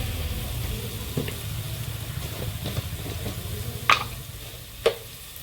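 Chicken curry masala frying in a pan as coriander powder goes in, a steady low sizzle with soft stirring scrapes and a couple of sharp clinks of a spoon against the pot.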